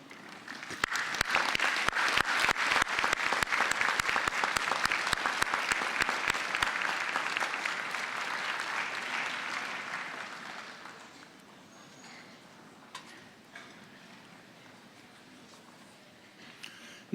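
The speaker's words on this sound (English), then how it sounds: "give them a warm round of applause for supporting your journey" A graduation convocation audience applauds for about ten seconds in a dense, sustained clatter of clapping that then fades to scattered claps and quiet room tone.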